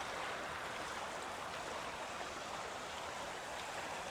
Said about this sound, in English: Water's kind of swirling me around.